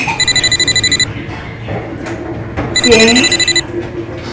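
An electronic telephone rings in rapid pulsing bursts, two rings separated by a short gap, with a voice speaking briefly between and over them.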